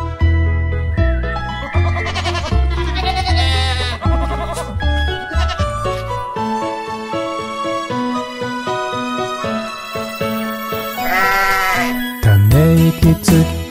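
Sheep bleating in a children's nursery song about Little Bo Peep, wavering bleats rising over bright, loud sung music, appearing in bursts near the start and again toward the end.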